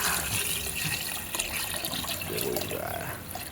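Water pours and splashes steadily into a pot of browned meat for nilaga, a continuous liquid rush with some clatter underneath.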